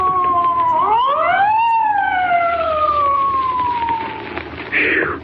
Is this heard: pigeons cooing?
no